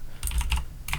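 Several quick keystrokes clatter on a computer keyboard in a short burst, close and crisp, with a brief pause before the final taps.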